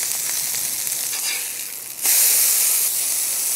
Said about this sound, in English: all the steam from the onions, while this is closed, is getting trapped in there and circulating around